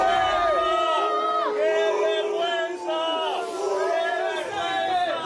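Football fans outside a team hotel in Lisbon, shouting and booing as the players arrive, a continuous loud roar of many voices with rising and falling jeers.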